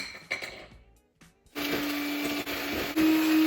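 An electric mixer starts after a few quiet kitchen clatters and runs loud and steady, whirring through strawberry shortcake batter with a slight shift in pitch near the end.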